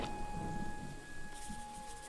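Steady rain pours in a stormy scene from the Pendragon video game, a dense hiss with low rumbling thunder underneath and a faint sustained musical tone running through.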